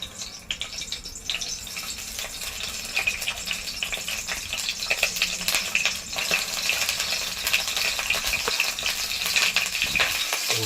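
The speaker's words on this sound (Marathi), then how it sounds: "आता ही वांगी चांगली पिळून तेल तापतंय पण ह्याच्यात सोडूया आणि ही तळून घेऊया" Squeezed stuffed brinjals, Konkani style, sizzle loudly in hot oil, a dense, steady crackle that holds for the whole stretch and grows slightly busier toward the end, with no talking.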